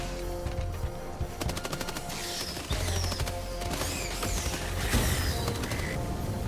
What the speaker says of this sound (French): Ah ouais, une mitrailleuse.